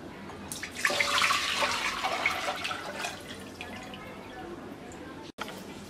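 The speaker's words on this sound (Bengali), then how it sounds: "এবার আমরা একটা সসপ্যানে 1 লিটার দুধ দিয়ে দিচ্ছি।" One litre of milk is poured into a saucepan, a steady splashing pour for a couple of seconds that then tapers off into quieter trickling, close by.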